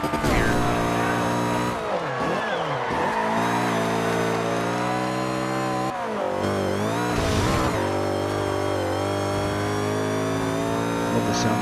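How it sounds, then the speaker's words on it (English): A Lamborghini Countach race car in Forza Horizon 2 roars through gear changes, its engine note rising and dropping with revving and brief tire squeal, loud and continuous throughout. "Love the sound this car makes."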